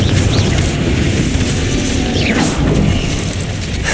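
Booming fiery blast of the Confringo spell in Hogwarts Legacy, a loud, sustained low rumble with crackling, rushing debris noise filling the whole moment and staying close and heavy throughout.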